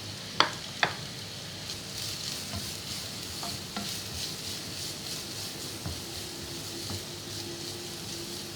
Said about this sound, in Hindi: दो टेबल स्पून ऑयल डाल के हम अपनी सब्जियों को सौते कर लेंगे